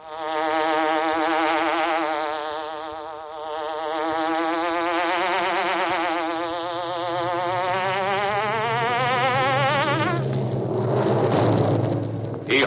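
A loud buzzing hornet sound effect from the Green Hornet radio show, a continuous rising and falling insect-like drone that swells and bends in pitch, alone and close for about twelve seconds.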